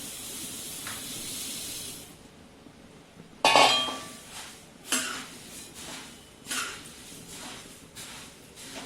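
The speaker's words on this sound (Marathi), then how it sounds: "कुरमुरे टाकून घेतल्यानंतर जवळजवळ चार ते पाच मिनटं कुरमुरेसुद्धा अगदी क्रिस्पी छान होईपर्यंत ते चिवड्यामध्ये भाजून घ्यायचे आहेत" Puffed rice is roasted and stirred in a pan for chivda, with a soft hiss at first, then scraping stirs and light clinks against the pan coming in irregular bursts, close by and without talk.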